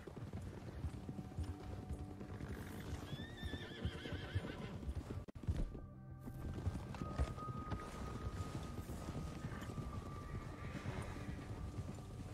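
A horse in Red Dead Redemption 2 whinnies and trots, with rhythmic hoofbeat clip-clops under game ambience and a brief neigh partway through.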